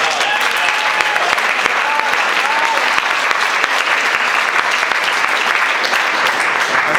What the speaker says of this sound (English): please applaud so they'll know that you appreciate it